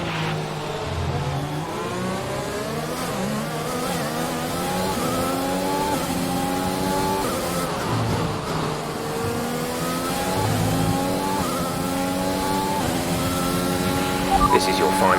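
Race car engines in the F1 2021 video game whine and rev continuously, pitch climbing and dropping with repeated gear shifts, while a race engineer's voice speaks over them.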